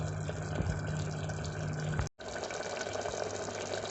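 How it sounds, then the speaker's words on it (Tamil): A pot of green rice pulav bubbles at a continuous, lively boil close to the mic, with a brief cut in the sound partway through. "இது நல்லா கொதிச்சிட்ருக்கு."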